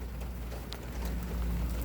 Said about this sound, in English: Out here, get some rain drops.